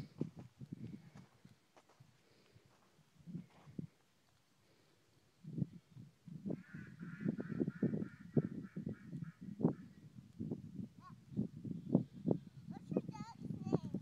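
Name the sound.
duck quacking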